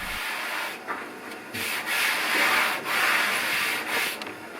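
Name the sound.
hand rubbing over sanded and unsanded wooden board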